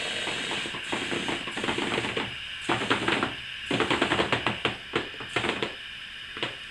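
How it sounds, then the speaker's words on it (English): Hand or foot pump pushing air into a go-kart tyre fitted on its rim, a run of rapid mechanical clicks and rattling strokes in bursts with short pauses, close and fairly loud, no talking. "So we'll pump some more air in it and see what it looks like."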